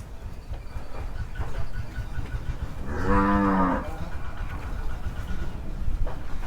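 At a cattle and buffalo market in Tak, Thailand, a cow lets out one loud, deep moo lasting under a second, standing out over steady market background noise.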